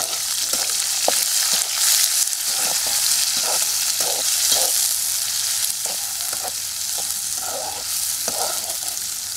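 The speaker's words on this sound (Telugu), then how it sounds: "ఇప్పుడేమో ఈ ఉల్లిపాయలు అంటే వేసేద్దాం. ఇవి కూడా బాగా కలిపి బాగా వేగనిద్దామండి" Onions frying with garlic in a pan give a steady, close sizzle throughout, with intermittent scraping taps as they are stirred. No one speaks.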